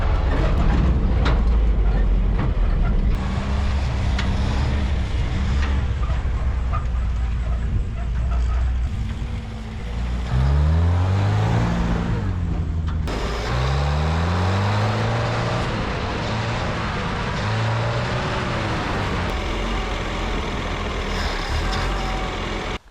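A 1967 International Scout, a long-abandoned project truck, driving with its engine running rough from the carburetor, loud droning with engine pitch rising and falling through gear changes, wind and road noise throughout.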